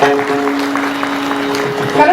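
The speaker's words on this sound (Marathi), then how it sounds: "याकरता त्यांच्या संयोजकांसाठी एकदा जोरदार टाळ्या वाजवा." An audience at a kirtan gives the organisers a round of applause, a steady patter of clapping held under a sustained droning instrumental tone.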